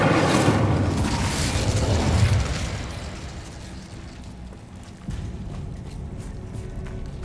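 Incendio fire spell cast in Hogwarts Legacy: a loud whooshing, booming burst of flame that swells for about two seconds, fades into a lower roar, then gives a second duller thump near the end, with no voices.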